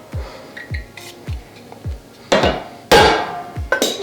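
A hammer strikes a steel roll pin on a mower's flex coupling, a series of sharp, close metallic taps at an uneven pace, the last few blows louder and ringing harder.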